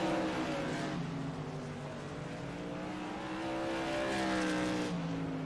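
Several race car engines drone and whine steadily on the track at Hickory Motor Speedway in a racing video game, rising and falling in pitch as the pack circles, fairly faint and without talk.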